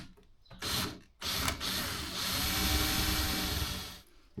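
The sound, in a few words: drilling softwood with drill bit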